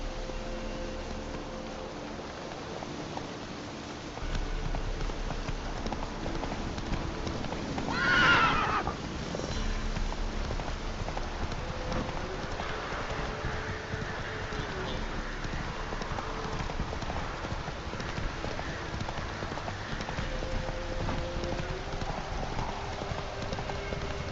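The horse Roach in The Witcher 3 gives one loud whinny partway through, amid a continuous rhythmic clip-clop of trotting hooves under a low game ambience.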